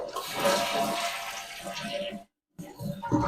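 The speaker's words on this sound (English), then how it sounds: "We'll go ahead and give it a flush." Household toilet flushing after its fill valve adjustment, a loud close rush of swirling water for about two seconds, a brief silence, then water refilling and gurgling.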